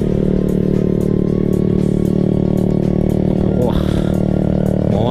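A motorcycle with a loud aftermarket exhaust drones close by on the smooth Bandung–Purwakarta road toward Cirata, with sharp, regularly spaced pops over the steady engine noise and one brief exclamation from a voice.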